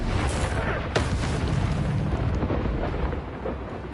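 Fire spell blast cast in a wizard video game: a loud, dense burst of roaring, crackling fire with a sharp flare near the start, sustained and rumbling throughout without speech.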